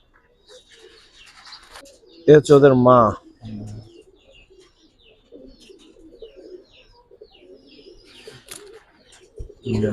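Silver giribaz pigeons coo in a loft; a loud, close, throaty call stands out, followed by softer murmuring coos, with someone speaking briefly.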